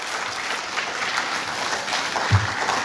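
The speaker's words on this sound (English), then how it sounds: "huge round of applause to all the faculties present here" Dense, sustained applause from a university audience honouring faculty members at an opening ceremony, a continuous even roar of many hands, with a brief low thump near the end.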